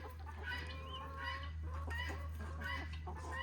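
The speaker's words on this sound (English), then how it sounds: "Got all these chickens back here." Several chickens cluck continuously close by, with overlapping calls and a steady low hum in the background.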